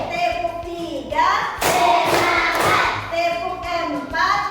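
A school class clapping together in rhythm during a morning lesson, bursts of group claps mixed with children's chanting voices and a teacher's lead, fairly loud in a classroom.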